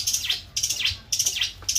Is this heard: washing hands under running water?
no